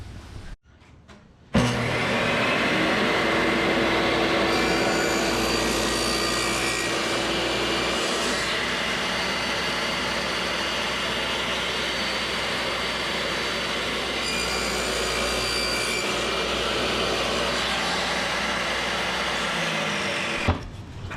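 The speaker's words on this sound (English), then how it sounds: "So all I've got to do is make the first cut, and then before I reposition anything, I make the exact same cut on the other board." A hand saw cuts wooden boards set against a stop block for a custom ammo-can case, with a steady, loud, continuous rasp running nearly twenty seconds without pause after a brief quiet start.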